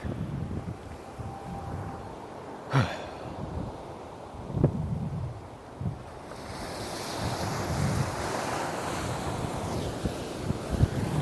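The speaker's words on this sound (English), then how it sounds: "I just had to let y'all hear the sound of the ocean real quick." Ocean surf breaks and washes along Santa Monica beach, with wave rushes swelling and fading among gusty wind buffeting the microphone and a few sharp bumps, no one speaking.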